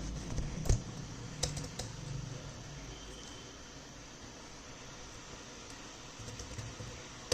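Keys clatter on a computer keyboard as code is typed, soft irregular tapping with a few sharper strokes over a steady hum of room noise.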